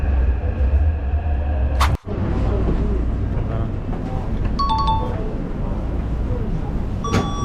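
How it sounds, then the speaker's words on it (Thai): Steady low rumble and hum of a Taipei MRT metro carriage in motion, with a brief dropout, a few tonal chimes, and faint background voices. "อยู่บนรถไฟกันพอสมควรนะครับ"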